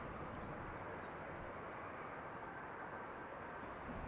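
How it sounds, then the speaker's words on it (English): An Airbus A320 or A319 taxis toward the runway threshold at Amsterdam Schiphol, a faint, steady distant engine rumble and whine with no other sounds. "Now it seems that the A320, or was it an A319? It's taxiing to the runway threshold."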